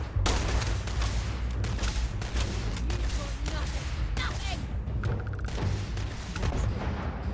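Battle in Starfield with heavy grenade blasts and bursts of gunfire rolling continuously, deep booms and sharp shots layered loudly together over several seconds.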